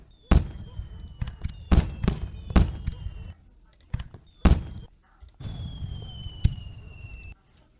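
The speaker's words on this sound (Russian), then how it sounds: "Так, еще фейерверки." Fireworks from a sound effects package: several sharp, loud bangs in an uneven cluster, with whistling streaks and crackling tails between them, then a quieter fizzing stretch before it fades.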